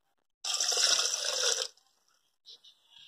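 Water is poured into a glass for an herbal drink made with soursop leaves, one short, bright splashing pour lasting about a second, then a few faint drips and small trickles.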